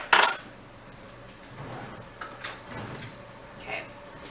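A clean spoon is pulled from cutlery while preparing homemade mushroom soup, giving a sharp metallic clatter of dishes and utensils at the start, then a few softer clinks and knocks nearby.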